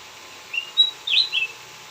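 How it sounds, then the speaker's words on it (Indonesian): A sooty-headed bulbul sings in a small backyard aviary on a rainy, misty morning, giving a few short, high, faint chirps over quiet background. "Burung kutilang berbunyi-bunyi."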